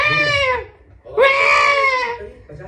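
A baby cries loudly in two long wailing bursts separated by a short breath, close and piercing, indoors at home.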